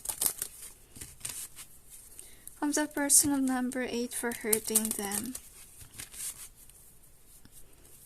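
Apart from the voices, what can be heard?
shuffling tarot cards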